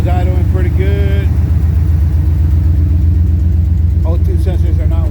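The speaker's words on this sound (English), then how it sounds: "Right now it's idling pretty good." A 1986 GMC C10 pickup with an LS engine swap idles with a steady, loud low rumble, someone talking over it at moments.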